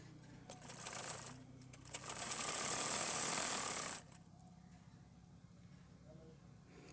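An electric sewing machine runs a short, fast burst of stitching along a trouser seam. The steady whirring lasts about two seconds and stops abruptly, with soft handling noise around it.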